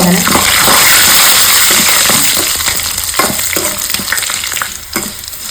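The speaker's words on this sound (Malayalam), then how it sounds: "അരി പൊരിഞ്ഞ് കഴിഞ്ഞ് ഇപ്പോൾ വെളുത്തുള്ളിയും ചുവന്ന മുളകും കൂടി ഇട്ടെടുക്കാം ഇങ്ങനെ" Garlic and red chilli fry with rice in a hot pan, a loud, dense, continuous sizzle with scraping stirs throughout, close up and without speech.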